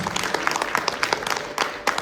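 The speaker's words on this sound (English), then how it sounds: "Please give them a big round of applause." A crowd applauds singers after a stage performance at a Thyagaraja Aradhana music event, with brisk, dense clapping that pulses unevenly and stays fairly close throughout the short burst.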